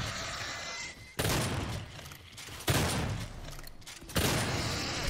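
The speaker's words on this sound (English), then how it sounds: "Can't hit me though, I've shotgunned it like 5 times." Shotgun blasts boom in DOOM multiplayer gameplay, three or four heavy shots spaced about a second and a half apart over continuous game noise.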